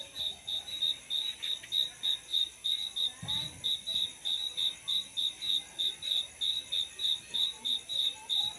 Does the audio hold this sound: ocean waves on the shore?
no